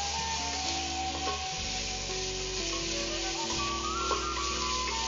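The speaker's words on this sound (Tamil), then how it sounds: "வெங்காயம், தக்காளி, மாங்காய் இதெல்லாம் ஒரு பக்கம் நல்லா வதங்கிட்டு இருக்கு" Onion, tomato and raw mango sauté in a pan for a Tamil-style mustard mango chicken dish, giving a steady close sizzle with stirring and scraping under a faint low hum.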